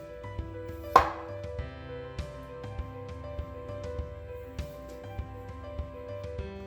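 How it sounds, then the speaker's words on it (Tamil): Knife cutting a peeled potato into fries on a board, faint regular taps about twice a second with one louder chop early on, under steady background music. "இந்த எட்ஜஸ் எல்லாம் லைட்டாக இப்படி கட் பண்ணிடுவேன்"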